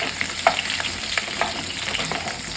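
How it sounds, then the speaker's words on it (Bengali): Potatoes fry in hot mustard oil in a wok, giving a steady, close sizzle with a few soft stirring clicks and no talking. "এরপর আমি এই আলুগুলো ভালো করে এর মধ্যে ভেজে নেব।"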